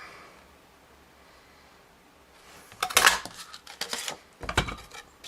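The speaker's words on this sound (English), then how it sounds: "Then I'm going to take a 2-inch punch." A 2-inch paper punch cuts a hole in card stock for a handmade notecard gift set. After a quiet stretch come a few sharp, close crunching clicks and rustles of paper.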